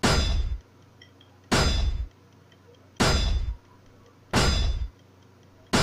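Four loud metallic clangs from bullets striking a lock in Resident Evil 4, evenly spaced about a second and a half apart, each ringing briefly before a quiet pause.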